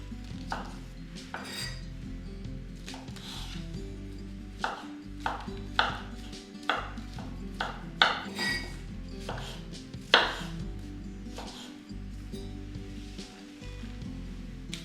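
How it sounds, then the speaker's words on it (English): Mushroom stems are chopped into small pieces on a board, a run of close, sharp knife knocks in an uneven rhythm, some harder than others, with quiet gaps between. "Meanwhile, start the filling with those mushroom stems. Chop them into small pieces."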